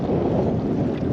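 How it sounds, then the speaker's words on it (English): Strong wind buffets the microphone outdoors at a fishing spot before rain, a loud, continuous low rumbling roar with no talk. "this wind is bloody atrocious"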